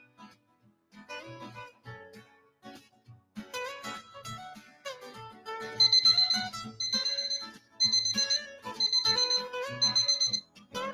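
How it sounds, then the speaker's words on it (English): A smart home alarm system being armed from its app gives out a run of electronic beeps and chime tones, sparse at first, then denser repeated bursts of bright beeping, with no talking. "Okay, so I'm showing you how to arm the alarm."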